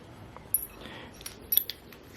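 Metal Allen keys from an e-bike accessory box clink and jangle faintly in a few brief, light taps against a quiet background.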